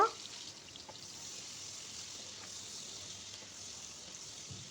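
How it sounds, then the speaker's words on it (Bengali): Chopped onions frying in oil in a pan for chicken roast and pulao, giving a steady, even sizzle that holds from start to finish without breaks. "এখন আবার আমি পেঁয়াজ কুচি দিয়ে দিলাম। পেঁয়াজ কুচিগুলো ভালো করে ভেজে নেব।"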